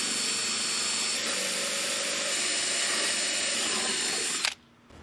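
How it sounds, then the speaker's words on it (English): A power drill bores holes through wood during a camper van kitchenette and cabinet build, a loud continuous whine running steadily for several seconds before cutting off abruptly near the end. "I'm going to drill these holes from the outside"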